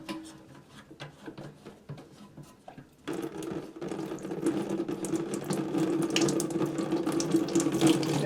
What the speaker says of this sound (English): And there goes the water draining